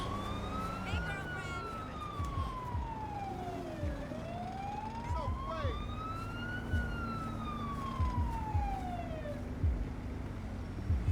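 An ambulance siren in GTA 5 LSPDFR, set in New Zealand with a St John's Ambulance Hyundai Santa Fe, wails in slow rising and falling sweeps, loud and continuous, over a low engine hum and light clicks.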